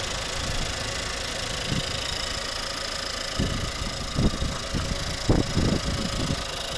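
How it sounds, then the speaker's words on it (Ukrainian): A 2012 Nissan Juke 1.6 petrol engine idling steadily with an even, low rumble, plus a few soft knocks and thumps toward the end. "Ось робота двигуна, ідеально рівно працює."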